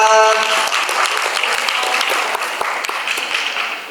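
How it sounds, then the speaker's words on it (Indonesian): A religious-leaders Independence Day gathering gives loud, dense applause as Romo Aan is welcomed. Many hands clap close by in a continuous burst, with a brief tonal voice or sound near the start. "Berikan tepuk tangan Romo Aan."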